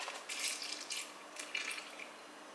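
Milk being poured into cake batter in a bowl, short bursts of splashing liquid heard up close with no talk.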